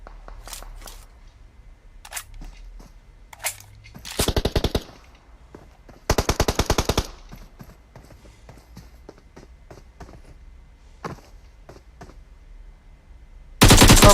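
Gunfire in the PUBG Mobile video game: sharp single shots scattered throughout, with three dense automatic bursts of rapid fire, loud and close, no talking.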